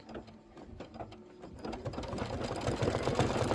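Sewing machine stitching a decorative flower outline, a rapid mechanical chatter of needle strokes, fairly quiet at first then running faster and denser, close and steady with no talking.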